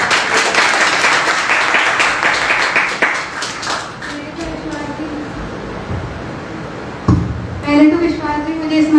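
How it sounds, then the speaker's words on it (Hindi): An audience claps for a poet stepping onto the stage at a Hindi Diwas event. Loud, dense applause fills the first few seconds, then thins out and fades as a voice begins speaking over the hall. "तालियों में जोश नहीं दिख रहा मुझे।"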